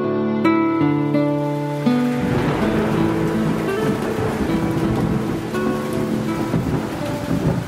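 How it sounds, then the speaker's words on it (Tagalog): A heavy rainstorm with strong wind and thunder, staged as a radio drama sound effect. Brief musical tones open it, then a dense, continuous roar of loud rain and wind fills the rest. "Lakas ng hangin at ulan eh."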